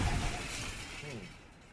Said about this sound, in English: you get every single pane of glass shattering across the entire map as it waits for people to load